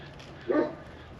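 A single muffled bark from a Great Pyrenees dog rises briefly from the distance against a steady low background hum.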